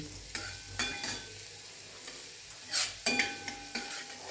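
Chopped garlic sizzles in a pan as it sautés toward golden, with a soft continuous fry broken by several clattering stirs and scrapes of a spatula, close and fairly quiet.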